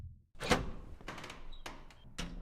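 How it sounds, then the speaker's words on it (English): A heavy metal door opens in the video game Vector Ware with a series of quiet, separate clunks and thuds spaced out over a couple of seconds. "Interesting door."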